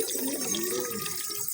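Water pours steadily into a pigeon drinking container, a soft continuous splashing and trickling stream that runs without pause.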